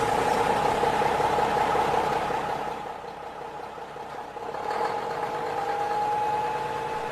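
A car engine idles steadily up close, a continuous even rumble with a faint mechanical hum that dips slightly midway before settling again, with no talking over it.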